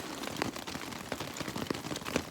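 Rain falls outdoors in cold, windy weather on a long-distance trail after a thunderstorm, with a close, crackling patter of drops hitting a nearby surface in an irregular stream and no talking.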